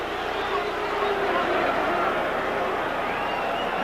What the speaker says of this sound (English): And the Britishers in the crowd react.